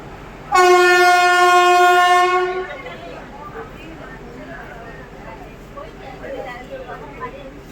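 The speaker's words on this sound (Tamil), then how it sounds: "காரைக்கால் எக்ஸ்பிரஸ்ஸு அவனுக்கு இங்கே ஸ்டாப்பிங் கிடையாது எப்படியும் நம்மளை இப்போ ஓவர்டேக் பண்ணிடுவான்" An Ernakulam–Karaikal Express train sounds a loud, sustained horn for about two seconds as it overtakes on the Tiruchirappalli–Needamangalam line, then its rumble fades into a quieter rolling background.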